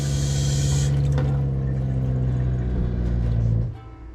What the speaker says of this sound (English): And here the pump shut off,